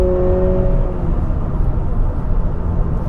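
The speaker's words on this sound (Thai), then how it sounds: "แล้วในโหมดสปอร์ตครับที่ขับอยู่เนี่ย เขาจะเพิ่มความเร้าใจด้วยพี่ด้วยเสียงสังเคราะห์ เสียงมันบึ้มๆเลยนะครับ" A Honda Civic e:HEV RS hybrid in sport mode hums loudly and steadily from inside the cabin, a deep droning rumble with synthesized engine sound and a faint tonal whine fading early.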